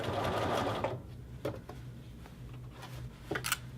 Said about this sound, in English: we are going to simply continue to sew across the bottom of this jacket